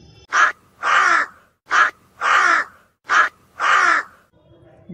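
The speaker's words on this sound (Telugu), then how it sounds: "కాకి కాకి, మీరు ఏమని అరుస్తారు?" A crow caws in three pairs, each a short sharp call followed by a longer harsh one, evenly spaced, loud and close with quiet gaps between.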